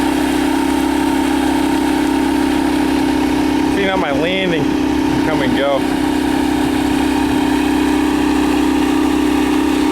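A boat engine at a cabin lake landing runs steadily in gear under light throttle, a constant droning hum throughout, while someone speaks briefly over it near the middle.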